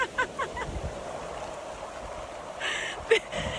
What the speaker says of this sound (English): Now I'm sitting in the ocean doing your video.